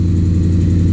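A 1978 Plymouth Volare kit car's engine holds a loud, steady, close hum with no breaks.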